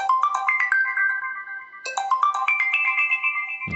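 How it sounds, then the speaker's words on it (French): Ringtone from a Doogee S59 smartphone: a bright, loud electronic melody of rising tonal notes, playing alone, restarting once partway through, with a brief low thump at the end. "On va écouter la sonnerie du téléphone."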